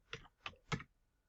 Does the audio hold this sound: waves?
no